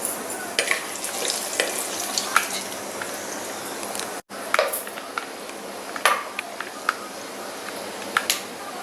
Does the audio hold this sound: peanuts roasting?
yes